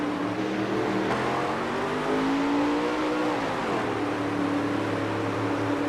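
Street stock race cars running on a dirt track at night, engines droning and revving steadily from a distance, pitch rising and falling as cars circle, with no talk.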